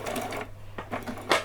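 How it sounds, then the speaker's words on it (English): Sewing machine stitching a Halloween dress, running slowly in short uneven bursts of mechanical whirring and clatter with brief pauses, heard up close. "I'm just going to very slowly go around, remembering to do a back stitch as we go on."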